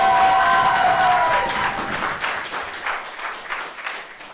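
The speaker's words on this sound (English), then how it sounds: "Let's hear a round of applause for that." Applause and some cheering from a live audience at a ticketed politics show in San Francisco, loud at first and tapering into softer scattered clapping over several seconds, with a steady tone faintly under the start.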